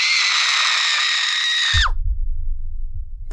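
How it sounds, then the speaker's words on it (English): A woman's blood-curdling scream as a horror sound effect: one loud, sustained high shriek that wavers and then breaks off abruptly into low rumbling noise. "a woman's blood-curdling scream erupted from the downstairs basement"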